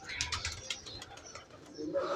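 Pigeons cooing and fluttering close by as they are being caught by a bird-catcher, mixed with soft rustling and faint background voices.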